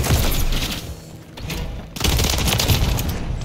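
Rapid bursts of automatic gunfire in a Call of Duty match, loud and dense with heavy thumping reports, a brief lull midway before a second sustained volley.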